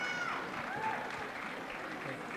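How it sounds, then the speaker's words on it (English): A basketball crowd at a girls' high school game gives steady applause for departing senior players, a dense, even patter of clapping that lasts throughout, with faint voices mixed in. "They receive a hand from the crowd."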